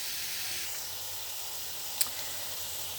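Lebanese-style okra with chicken and tomatoes simmering in a pot, a soft steady hiss with a faint brief click near the middle, no talk.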